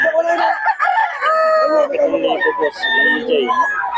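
Roosters crow repeatedly at a crowded Bocaue gamefowl market, several overlapping calls rising close by while people talk throughout.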